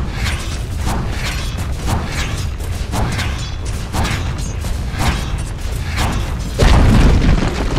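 Dire towers in Dota 2 being attacked and crumbling, a steady run of heavy, regular booming impacts over a dense rumbling bed, ending in a louder, deeper crash.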